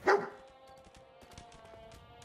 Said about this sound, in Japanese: バウバウ吠えてますね。